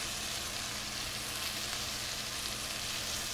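Onions sautéing in butter in a pan give off a steady, even sizzle and crackle that holds unbroken from start to finish, with no voices.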